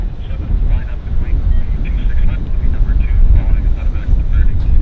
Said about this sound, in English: This guy's a Toronto flight.